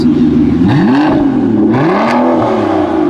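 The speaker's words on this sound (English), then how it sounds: "talking about V12s, the Vanquish S. That's such a good sound." An Aston Martin Vanquish S V12 engine revs hard twice in quick succession, the pitch sweeping up and falling back each time, loud and close.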